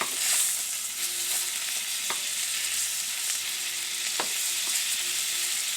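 Halibut sizzles in browning butter in a pan, a soft continuous frying crackle broken by a few sharp utensil taps as the fish is flipped, with no voices.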